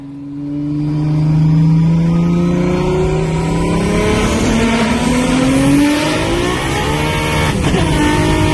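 A Toyota Supra race car on a test drive, its engine revving loud and close as the transmission shifts through gears, the pitch climbing and dropping in sweeps with no talking.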